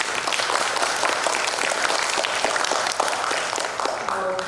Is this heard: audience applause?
yes